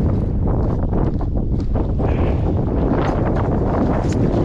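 Strong wind buffeting a microphone on a ship deck during cargo loading, a loud continuous roar with gusty rustling and no speech.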